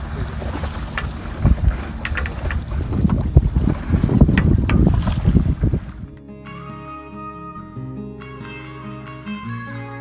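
Strong wind of about 8 to 9 knots rushes loudly over a sailboat heading back to a marina at sunset, gusting noise filling the first six seconds before a song with music takes over.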